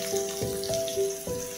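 Carrots tipped into hot oil with fried curry leaves and green chilli while making spicy semolina upma, giving a close sizzle with a few brief clattering knocks as the pieces land.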